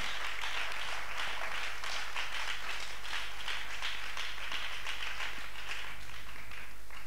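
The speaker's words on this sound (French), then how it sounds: "Est-ce qu'on peut acclamer pour la gloire de Dieu?" A church congregation applauds for the glory of God with dense, continuous clapping that holds steady for several seconds, broad and roomy, with scattered voices faintly underneath.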